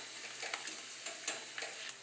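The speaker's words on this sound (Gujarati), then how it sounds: "તો આ છીણને પણ આપણે તળી લઈશું।" Grated potato frying in oil for a farali sabudana chevdo, with a soft, quiet sizzle broken by a few light scrapes of a frying ladle.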